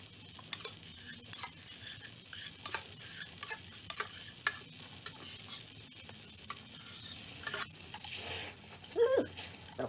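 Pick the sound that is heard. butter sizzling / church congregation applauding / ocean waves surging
butter sizzling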